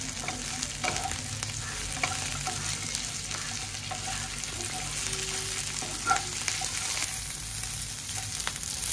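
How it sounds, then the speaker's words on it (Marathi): Garlic and green chillies sauté in oil in a pan, giving a close, continuous sizzle with occasional light stirring scrapes and no talking. "लसूण पण या मिरच्यांसोबत थोडं परतवून घेऊया"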